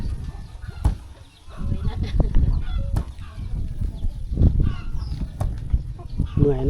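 Chickens cluck and scratch about in a remote forest village, with scattered clucks and a brief wing flap close by while a voice talks over them now and then.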